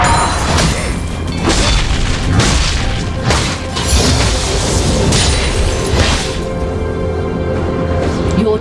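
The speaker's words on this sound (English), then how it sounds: "Your team has destroyed the turret." A turret is destroyed in the League of Legends video game, with a series of heavy booming crashes and thuds in quick succession amid busy game noise, then settling into a quieter rumble.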